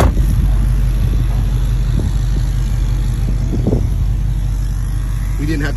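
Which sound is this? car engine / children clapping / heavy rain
car engine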